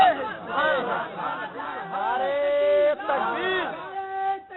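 A crowd at a religious speech shouts slogans in unison in rising, overlapping bursts, loud and sustained, chanting Zindabad and Allahu Akbar together over a few seconds.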